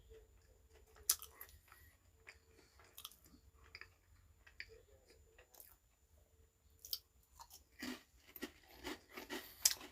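Someone chews Nongshim Saeukkang shrimp-flavored crunchy snacks up close, with irregular crisp crunches and bites that grow denser and louder toward the end, alone without talk.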